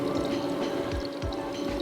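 Water pours steadily out of a homemade backyard pool heater, a continuous splashing trickle heard close up with no talking.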